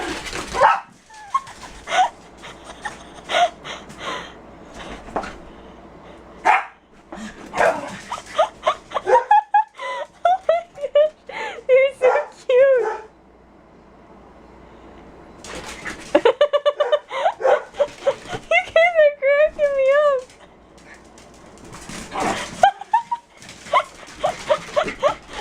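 A frightened puppy barks and whimpers in bursts, sharp yaps mixed with high wavering whines, loud and close with short pauses between outbursts.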